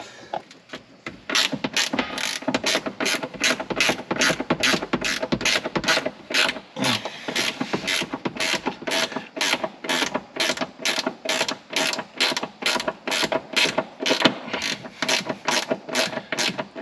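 A hand ratchet loosens a bolt on a Jeep Wrangler transfer case bracket, its pawl clicking in a long run of quick, even strokes with brief pauses, close and clear with no talking.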